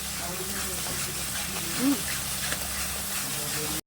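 Spices, onion, ginger, garlic and tomato sautéing in a pan with leftover frying oil, a steady broad sizzle running throughout with a faint background voice.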